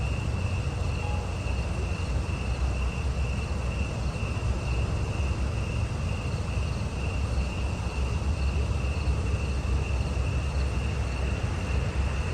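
Crickets chirp nonstop in the background outdoors, a thin, even, high trill that holds steady the whole time with no voices.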